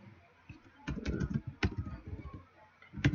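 Keyboard typing while entering text into a new file: a few separate bursts of quick keystrokes with short pauses between them, close and moderately loud, with no talking.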